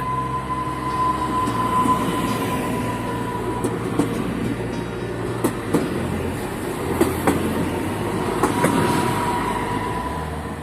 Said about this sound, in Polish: Odjeżdża pociąg Regio relacji Świnoujście Poznań Główny.